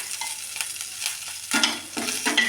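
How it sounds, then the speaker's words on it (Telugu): Curry leaves drop into two spoonfuls of hot ghee in a pan, and a sudden close sizzle and crackle bursts out and then repeats in short waves, with the stirring heard over quiet kitchen background. "రెండు స్పూన్లు నెయ్యి వేసి అదిగోండి కరివేపాకు వేస్తున్నానండి ముందు కరివేపాకు వేపేస్తానండి"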